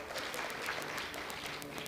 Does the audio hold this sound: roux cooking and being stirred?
no